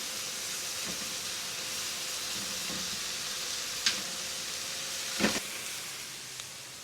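Shrimp sizzling in a pan for shrimp scampi just after flipping, a steady broadband hiss that runs the whole time with a few brief sharper crackles and pops near the end, no talking.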